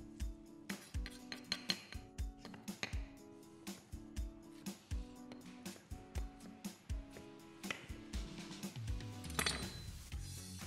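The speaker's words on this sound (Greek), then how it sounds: "Κόβουμε εδώ κατά μήκος." A knife chops a carrot into small cubes on a cutting board with quick, evenly spaced, crisp taps, close and fairly quiet, quickening into a denser flurry near the end.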